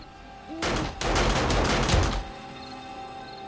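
Automated turrets fire in a pit in the game 7 Days to Die: a dense, sustained rattling burst of rapid shots, loud and close, running for about a second and a half before it cuts off.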